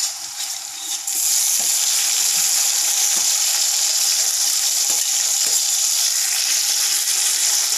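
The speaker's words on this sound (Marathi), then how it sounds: "जिरे व्यवस्थित तडतडले की आता आपण यामध्ये कट केलेले ठेचलेले लसूण टाकून देऊ। ते व्यवस्थित फ्राय झाले की आपण त्यामध्ये टोमॅटो ॲड करू।" Crushed garlic and tomatoes fry in hot oil with cumin, a steady bright sizzle that jumps louder after the first second and holds close and even, with faint occasional clinks underneath and no talking.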